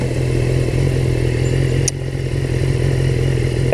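A BMW motorcycle engine hums steadily and loudly while riding, a constant close drone with a brief clatter near the middle and no talk.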